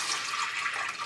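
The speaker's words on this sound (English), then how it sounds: "When I pull up a plant, I like to hear the water go down." Leftover nutrient water drains out of a semi-hydroponic plant pot as the plant is pulled up, a soft steady trickling hiss heard close and alone.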